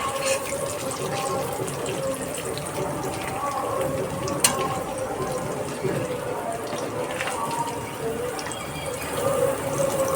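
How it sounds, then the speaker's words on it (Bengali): Fried paneer pieces splash into cold water, a continuous close rush of running, sloshing water with a brief sharper splash midway. "আপনি ঠান্ডা জলের মধ্যে পনিরগুলো ভেজে ঢেলে দেন"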